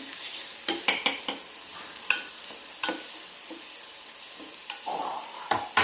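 Masala frying in a pan with salt added, a soft steady sizzle under repeated sharp clinks and scrapes of a spoon stirring against the pan, close and alone with no talk.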